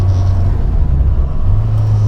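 A 1964 Morris Mini Cooper S with a 1071cc engine and close-ratio gearbox runs hard through its gears, a loud, steady engine drone with brief dips in tone as each gear changes, with no voices.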